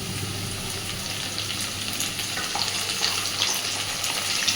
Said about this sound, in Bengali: পেঁয়াজ কাঁচা লঙ্কাটাকে দিয়ে খুব ভালোভাবে আবারও ভাজতে থাকবো